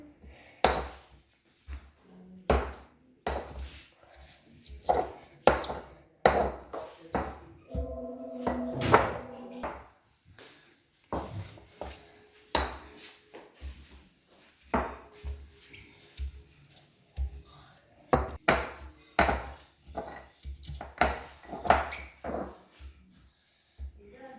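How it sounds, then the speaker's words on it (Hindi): Repeated dull pounding strikes on rose petals by hand in an irregular rhythm, close by, with soft grinding and scraping between blows and no talking. "तो हम धीरे धीरे करके थोड़ा थोड़ा कूट देंगे हम"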